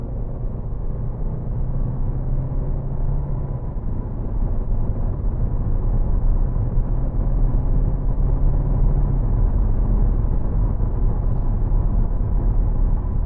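A Hyundai Santa Fe 2.2 CRDi automatic accelerates from 70 km/h, its deep, muffled engine rumble rising slightly in level and staying smooth and steady inside the cabin.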